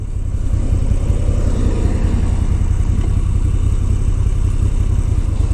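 A 2022 Moto Guzzi V7 850 Special motorcycle engine runs at a steady, throbbing pulse while riding, heard up close with constant wind and road noise and no talking.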